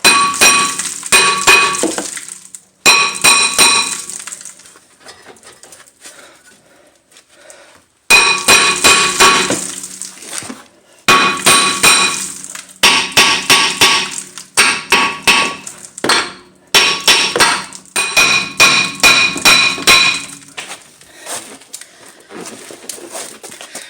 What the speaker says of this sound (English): you just take a hammer and just slowly,